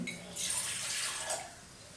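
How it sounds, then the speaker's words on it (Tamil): Water poured from a tumbler into a cooking pan on a stove, a soft, short splashing rush that swells and then trails off over a couple of seconds, fairly quiet with faint kitchen background. "நம்ம வெட்டி வச்சுருக்க கத்திரிக்காய் தக்காளி முங்குற அளவுக்கு தண்ணி விட்டுக்கலாம்"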